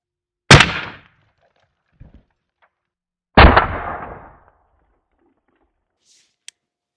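Two sharp, loud suppressed .223 rifle shots firing 77-grain Sierra TMK bullets at an elk target outdoors, each with a short fading echo, about three seconds apart, with faint small knocks between and a brief click near the end.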